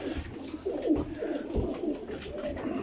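Pigeons at a breeder's loft coo in soft, low, repeated phrases, close by and steady throughout, with no talking.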